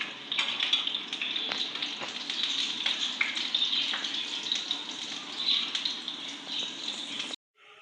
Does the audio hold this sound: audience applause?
no